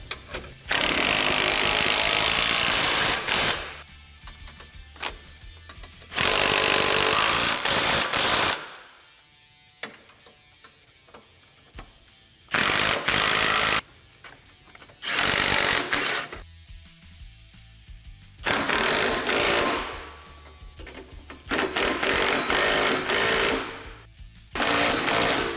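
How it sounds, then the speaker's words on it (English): A power tool tightens the hardware on a SuperATV rear bumper for a Kawasaki Teryx 4 in several loud, buzzing, rattling bursts of a few seconds each, separated by quieter gaps. "Now we're going to fully tighten all our hardware."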